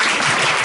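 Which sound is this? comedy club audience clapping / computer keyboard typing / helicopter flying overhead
comedy club audience clapping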